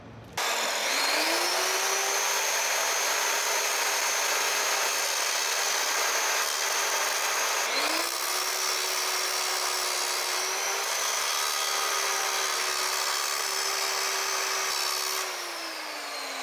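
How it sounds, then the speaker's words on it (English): An angle grinder cutting a sprocket off a solid axle, a loud continuous high whine held steady for the whole stretch with a brief dip and re-bite partway through and a slight drop near the end. "So next step, grinding off that sprocket."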